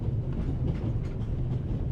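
A train runs on its rails, heard as a steady low rumble with a faint rhythmic clatter and no pauses.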